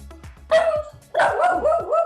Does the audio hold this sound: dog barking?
yes